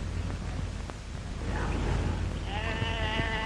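Sheep on an Australian stud farm bleat in a few drawn-out, wavering calls over a steady rumbling background of old film sound.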